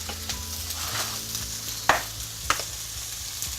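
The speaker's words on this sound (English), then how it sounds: "Prawn and mince goes in. A few quick stirs and you can now start to add in your other ingredients." Prawns and minced meat stir-fried in a wok for special fried rice, a steady close sizzle with a few sharp scraping clacks of the spatula against the pan.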